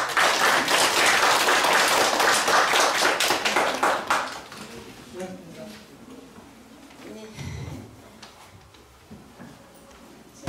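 Audience clapping at a book launch celebration for a Buddhist monk, greeting the leader of the Nirvana Orchestra before a violin performance; dense applause for about four seconds, then it thins out while a voice speaks over the tail end.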